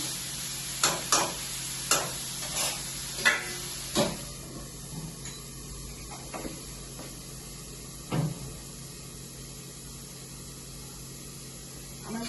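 Vegetables frying in oil in a pan, a soft sizzle under a series of sharp clanks and knocks from stirring or lid handling, busier at the start and then easing into quieter sizzling with an occasional knock.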